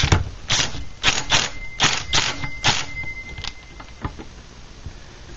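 Nut on a Craftsman 2.1 / Poulan 25 chainsaw being driven tight with a power impact tool: a quick rattling series of clattering bursts, close and loud, easing into a few lighter taps.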